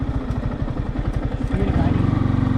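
A Yamaha R15 V4 motorcycle fitted with an upsized Apollo Alpha H1 rear tyre does a burnout. The close engine throbs in rapid pulses, then climbs into a higher, smoother revving drone.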